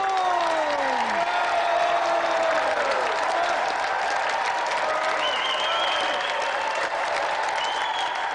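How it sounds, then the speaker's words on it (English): A television game show studio audience applauds steadily and loudly, a dense continuous clapping wash with faint cheers, while electronic whooshing tones sweep through the background. "Let's have another round of applause for Callum Green and tonight's special guest, Vinnie Jones!"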